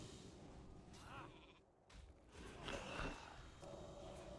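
Sheep bleat a few times in a wavering, nasal call in the video game World of Warcraft Classic, faint and somewhat distant, with soft background noise and no talking.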